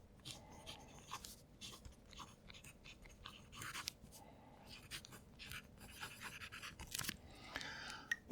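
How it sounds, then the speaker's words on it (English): A TWSBI Eco fountain pen with a medium nib moves across paper in soft, intermittent scratches and light taps, very quiet and close, ending in a brief louder bump. "It's also a lot quieter when I'm writing with it."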